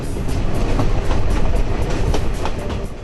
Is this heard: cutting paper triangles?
no